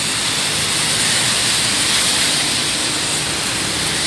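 Heavy rain driven by strong wind in Maringá, a loud dense hiss of downpour that roars steadily and close throughout.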